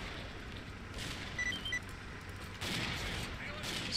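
Grenades exploding in the video game S.T.A.L.K.E.R. Clear Sky: two heavy noisy blasts about one and a half seconds apart, each followed by a rumbling wash, over a constant gritty background.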